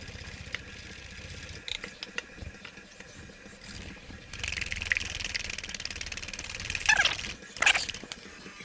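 A custard mixture for Chinese steamed buns being whisked steadily in a bowl, a continuous rapid scraping rattle that grows louder and busier in the second half, with no talking.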